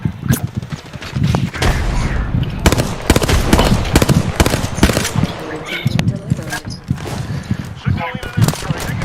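Dense video game gunfire, rapid machine-gun bursts and single shots cracking close and loud in continuous volleys, with voices speaking over the shooting.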